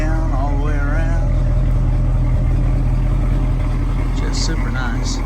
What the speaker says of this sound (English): Dual exhaust sounds awesome.